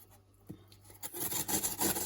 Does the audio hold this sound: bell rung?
no